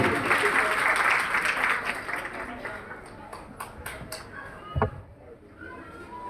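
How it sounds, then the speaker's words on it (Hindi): Audience applause at a satsang gathering fills the start with dense clapping that thins and fades over a few seconds, followed by a sharp knock and a few scattered sounds in a quieter room. "एक बार जोरदार तालियां इनके लिए भी।"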